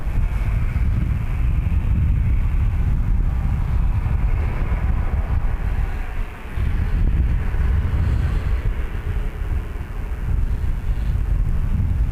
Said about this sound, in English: There is a crosswind.